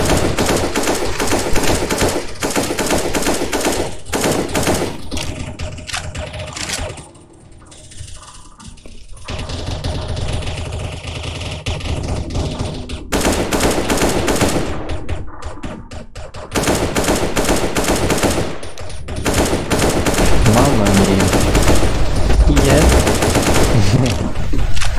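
Automatic weapon fire in CS:GO's Zombie Escape mod on a water-themed map, dense sustained bursts of rapid shots rattling almost nonstop, loud and close, with brief lulls and faint voices underneath.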